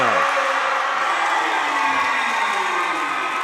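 A basketball crowd roaring and cheering during a team's scoring run, a loud, sustained wall of voices with whoops, filling the whole stretch at close range.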